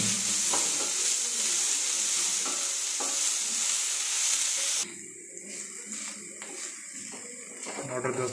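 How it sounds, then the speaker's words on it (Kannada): Spring onion greens fry in oil with a dense sizzle and stirring scrapes, loud for the first half, then quieter with brief water-like splashes and intermittent clatter. "ಈಗ ಚೆನ್ನಾಗಿ ಫ್ರೈ ಮಾಡ್ಕೊಂತಾಳೆ ಅದನ್ನು"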